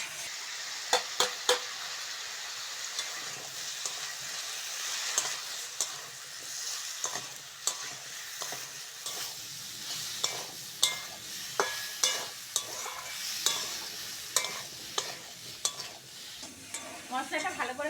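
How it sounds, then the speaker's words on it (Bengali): Vegetables with onion fry in a pan as turmeric, chili powder and salt are stirred in. A soft continuous sizzle runs under repeated sharp scrapes and clinks from a spatula or ladle against the pot, with no talking. "মশলাটা ভালো করে কষে নিয়েছি"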